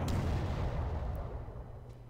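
Artillery fire rumbles through a Panzer Corps attack on an enemy artillery unit, a dense, boomy low roar that fades slowly over about two seconds, with no voices.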